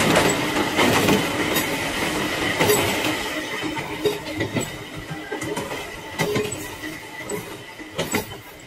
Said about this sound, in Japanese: 普通の電車です